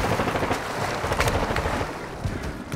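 Rapid pistol gunfire in a shooter video game crackles in dense overlapping bursts, loud and continuous with no pauses throughout.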